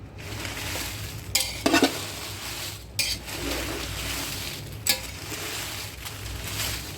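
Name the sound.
red chillies frying in oil while stirred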